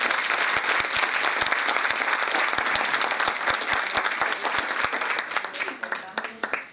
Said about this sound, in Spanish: Así que lo recibimos con un aplauso a Jorge.